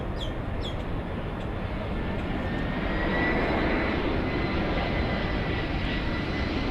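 Boeing 747 jet engines roar loudly and steadily at Miami International, a dense continuous rumble that swells slightly mid-way, with a few faint chirps near the start.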